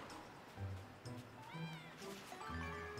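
A creature cry from a cat-seagull hybrid in Lil Dragon Cafe, a wavering meow-like call rising over a soft bed of game ambience and light rustling.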